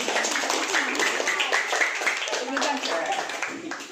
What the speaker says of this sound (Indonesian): tepuk tangan buat Pak Ais